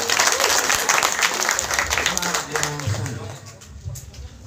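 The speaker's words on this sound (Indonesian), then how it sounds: "tepuk tangan untuk beliau" Applause from the audience at a catfish-farming training session on the biofloc system: dense, fairly loud clapping that tapers gradually over a few seconds, with voices murmuring underneath.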